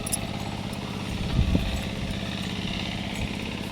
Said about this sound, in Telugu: మా మావయ్య ట్రాక్టర్తో దున్నుతున్నాడు